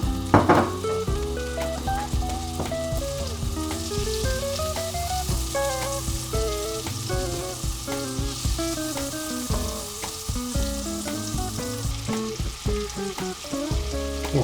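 Butter melting with cardamom seeds in a pan for a carrot halwa dessert gives off a steady, continuous sizzle and crackle throughout, close and unbroken, with no talking.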